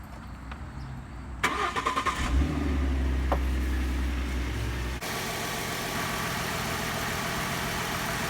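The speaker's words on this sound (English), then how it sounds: "after the initial startup, you don't hear much, but you do hear after it idles down" A car engine fitted with an Airaid throttle body spacer cranks briefly, fires up with a loud surge, then settles into a steady, moderately loud idle with a low rumble.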